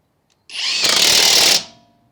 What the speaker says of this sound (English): It's going to go ahead and impact the lug nut in, but then it will stop once it feels that it no longer needs any more torque to tighten it down.